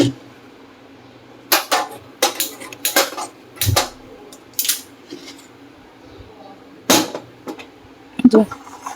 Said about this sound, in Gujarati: હવે છે ને આને ધીમે ધીમે હલાવાનો